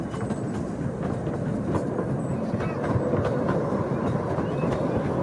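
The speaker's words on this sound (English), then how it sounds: "As the train curves through shaded paths and open fields" Small park train riding through Hermann Park in Houston, heard from on board as a steady close rumble with rhythmic clickety-clack of wheels on track, continuous throughout.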